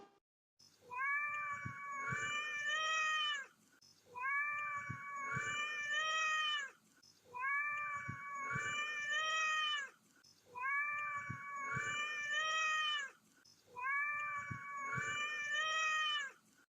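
A cat meows five times at an even pace, each call long, drawn-out and plaintive, close and clear with short silences in between.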